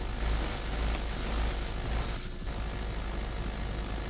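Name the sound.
helicopter flying in BattleBit video game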